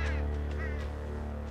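A bird honks in the video game Unravel, a couple of loud goose-like calls over a steady, humming game soundtrack.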